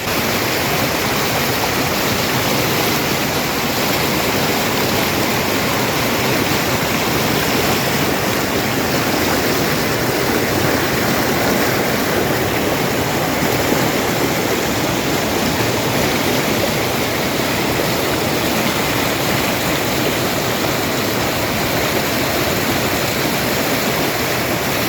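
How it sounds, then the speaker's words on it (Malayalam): River at Erattinpuram rushing strongly over rocks, a loud, continuous roar of churning water heard up close with no letup. "നദി ക്രോസ് ചെയ്യാൻ ശ്രമിക്കേണ്ട, കാരണം നല്ല ഒഴുക്കുണ്ട്"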